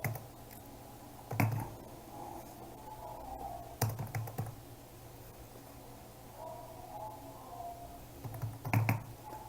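A number is typed on a computer keyboard in short clustered bursts of key clicks separated by quiet pauses, close and moderately soft over a faint background hiss.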